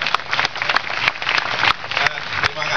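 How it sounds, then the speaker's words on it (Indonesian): A large gathering at the Kenduri Cinta forum claps together, a dense, continuous wash of applause with occasional sharper individual claps standing out. "tepuk tangan semua untuk Ma'iyah"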